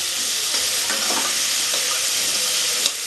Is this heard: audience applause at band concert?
no